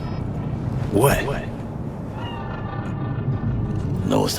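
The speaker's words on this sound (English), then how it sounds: "Do you see it? The cat. Fine-looking feline." A cat in the video game Cyberpunk 2077 meows a couple of times in the city, short rising calls heard alongside spoken dialogue.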